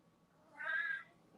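A single cat meow, drawn out and tonal, rises clearly over a quiet room tone and lasts under half a second before fading.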